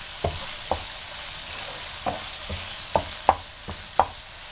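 Roasted, ground masala stirred and fried in a pan for a spicy aloo bhindi salan, with a steady sizzle under a series of sharp spoon scrapes and taps, several louder strokes near the end.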